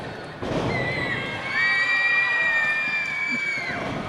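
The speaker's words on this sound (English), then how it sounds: "Crowd going nuts behind us" A wrestling show crowd cheers and goes wild, a loud sustained roar with shrill whistling and high-pitched screams swelling after a thump and holding steady.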